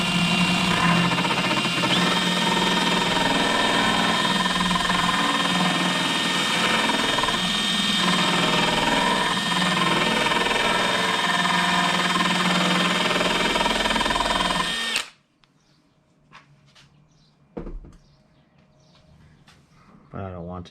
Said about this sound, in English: So this is a little wire brush on a drill.